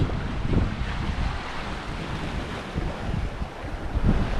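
Sea waves wash against a sailboat on an offshore delivery passage toward Crosshaven off Cork, with a steady rush of surf and wind noise buffeting the microphone throughout and no voices.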